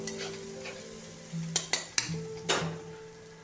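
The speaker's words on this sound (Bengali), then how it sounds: "এবার পেঁয়াজটাকে হালকা নরম হতে দেবো" Chopped onions added to a pan for a prawn and potato curry, sizzling steadily with a few sharp clatters of stirring against the pan; close and moderately loud, no voices.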